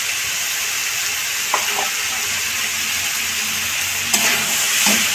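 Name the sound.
green peas added to a sizzling pan for navratan dal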